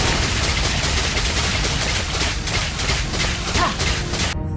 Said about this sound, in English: The more speed item you buy, the faster you shoot.